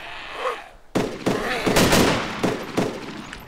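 Gunfire in the video game ARMA II with the DayZero mod, several sharp shots spaced about half a second apart, loud and close, following a quiet lead-in.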